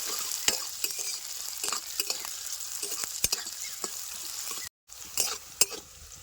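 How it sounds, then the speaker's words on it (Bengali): Onions sizzle in hot oil with cumin and asafoetida in a rustic village kitchen, a steady close crackle broken by scraping stirs and spatula knocks, with a brief dropout near the end. "পেঁয়াজটা এবারে সোমবারের সাথে লাল লাল করে বাইজে নেব"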